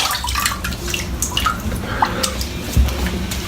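Running tap water splashes and trickles steadily as a shavette razor is rinsed under it, with small drips and clinks near the sink and no talking.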